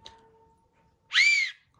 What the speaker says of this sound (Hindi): जी हाँ सीटी बज रही है बहुत ही बढ़िया बज रही है